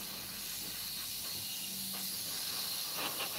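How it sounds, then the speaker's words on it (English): Spray paint hisses onto a small wing part of a scale model kit, a steady close airy hiss lasting throughout with a few faint background sounds. "spray this little wing bit that I'm sort of holding"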